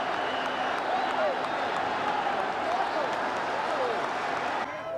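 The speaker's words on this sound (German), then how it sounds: "Jubel im Wiener Hanapi-Stadion, als der Spielstand aus Graz bekannt gegeben wird." A large stadium crowd in Vienna's Hanappi Stadium roars and applauds in a steady, dense wall of cheering, with a commentator's voice running faintly underneath, the noise easing slightly near the end.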